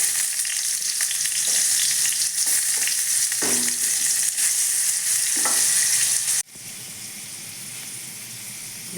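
Potatoes fry in hot oil for a village-style meal, a loud, steady sizzle with occasional stirring scrapes, dropping slightly quieter partway through as the frying continues alone.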